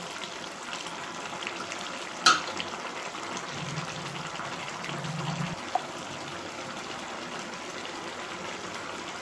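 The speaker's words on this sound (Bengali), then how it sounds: "গ্যাসটা বাড়িয়ে ফুটিয়ে নিচ্ছি" A chickpea and pumpkin greens curry boils on a gas stove turned up high: a steady, soft bubbling hiss with a couple of sharp clinks of utensil on pot.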